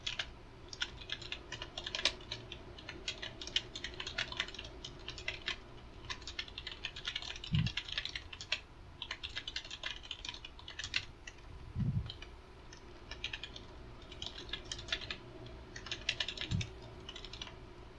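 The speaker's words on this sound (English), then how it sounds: "I'm typing it so that we have more clarity." Steady computer keyboard typing runs for the full stretch, a close clatter of keystrokes in uneven bursts, with a few low thumps here and there and no voices.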